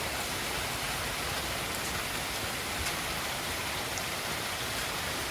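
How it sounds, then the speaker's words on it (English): Heavy rain with big drops falling in a localized summer storm, a dense, steady hiss of drops striking surfaces, close and continuous with no voices. "Gosh, the raindrops are so big, they look like glitter."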